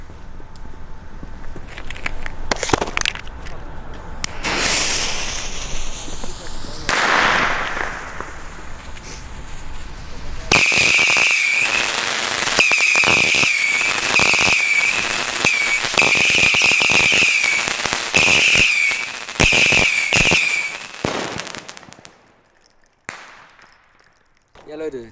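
A New Year's Eve firework battery fires a long burst of rapid, crackling shots with whistling tails, then stops; some nearby talk and noise come before it.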